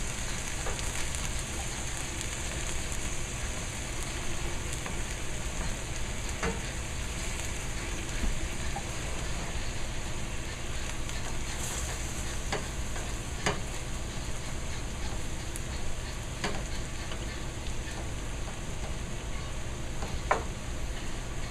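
Ground meat browns and sizzles in a pan for guisado, a constant loud frying hiss with occasional spatula scrapes and taps as it is broken up.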